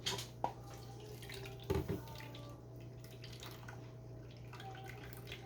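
Liquid drains from a can of whole kernel corn through a can strainer in a kitchen, a thin steady trickle with a couple of brief splashy bursts over a constant low hum.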